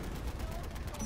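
Gunfire in a multiplayer shooting game, a short dense burst of rapid shots, loud and close, with voices talking over it.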